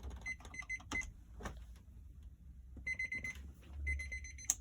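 A digital timer beeps in short repeated electronic chirps, close and clear, in two clusters separated by a pause, with a low background hum.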